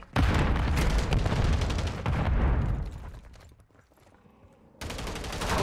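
Striker shotgun blasts in Call of Duty MW3: loud, close, overlapping booming shots in a dense burst that fades into a quieter lull before another heavy volley starts abruptly.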